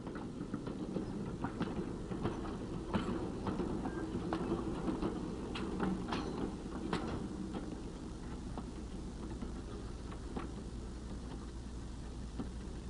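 A faint, distant rumble of a train rolling over broken tracks, with irregular clicks and clunks over the rails, quiet and steady throughout.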